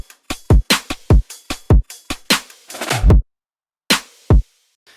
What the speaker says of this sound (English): We're gonna start off with the drums,